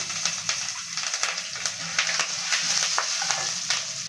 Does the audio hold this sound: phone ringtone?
no